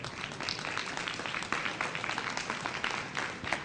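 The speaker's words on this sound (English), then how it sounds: "I would like one big round of applause for the panelists" Applause from a workshop audience at an internet governance forum session honoring the panelists, a soft, steady patter of many hands clapping at a distance, fairly faint throughout.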